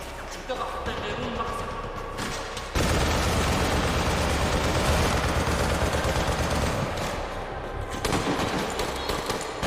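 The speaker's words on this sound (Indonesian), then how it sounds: "Mayor Jasim menyuruh anak buahnya terus menembak" Sustained gunfire from a film battle scene set in Mosul, with a police SWAT team firing at ISIS snipers: loud, dense bursts of automatic fire and shots that swell after a few seconds and continue almost unbroken, with booms under a background voice.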